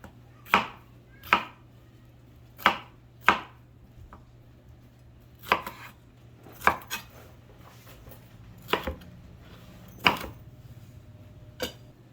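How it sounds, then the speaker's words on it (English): A knife roughly chopping vegetables and pineapple on a cutting board for tropical grilled shrimp skewers, about a dozen sharp, close thunks spaced unevenly with quiet gaps between, no talking. "Just like a rough chop on everything."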